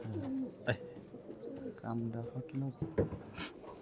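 Imported Oman teddy pigeons cooing close by in soft, repeated throaty calls, with people talking over them at moderate level.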